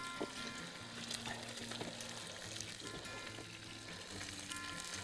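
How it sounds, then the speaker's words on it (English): Food sizzles and frying hisses steadily in a pan over a campfire while it is stirred, a quiet continuous crackle with occasional scrapes and no talking. "So I'm just going to stir this up real quickly."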